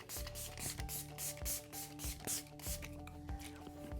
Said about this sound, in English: Also going to spray a little bit of the Milani Make It Last Setting Spray.